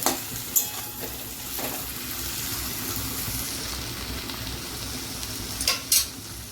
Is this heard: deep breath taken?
no